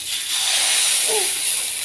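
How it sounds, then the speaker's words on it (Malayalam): Appam batter hits a hot pan and sizzles in a steady, loud hiss that holds throughout, close up and alone. "ഇനി അതിലേക്ക് നമുക്ക് മാവ് ഒഴിക്കാം."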